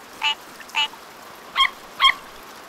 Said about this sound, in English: This frog sounds like a duck, and it has lines on its back.